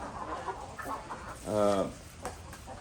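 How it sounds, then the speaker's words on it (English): Chickens cluck and murmur nearby, with one louder drawn-out call in the middle over a steady background hum. "The chickens are healthy though. You can hear them."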